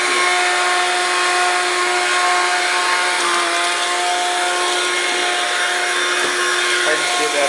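A Hoover Platinum Collection Linx cordless stick vacuum runs close by with a steady, loud motor whine and hiss, its tone holding constant throughout with a brief dip near the end.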